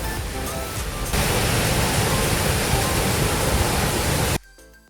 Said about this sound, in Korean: 밑에서 보는 출렁다리와 인공폭포는 뭔가 협곡에 온 기분이랄까?